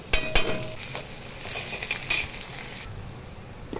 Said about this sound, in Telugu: ఇప్పుడు అల్లం వెల్లుల్లి పేస్ట్ వేస్తున్నాను.